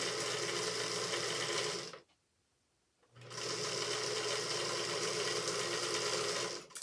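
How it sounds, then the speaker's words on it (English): A sewing machine runs steadily stitching a quilt block seam, loud and close, pausing for about a second before resuming its continuous whir until the end. "Let me just see if I can get through one last little seam."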